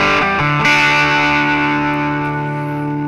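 Distorted, sustained guitar-like tone through the Airwindows Cabs speaker-cabinet plugin with its room loud setting raised, a few quick note changes at the start and then a long ringing chord, loud and steady.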